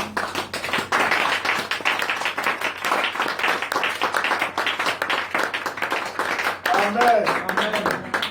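A church congregation at a worship service clapping and applauding loudly and continuously to praise the Lord, dense rapid hand claps with voices shouting over them.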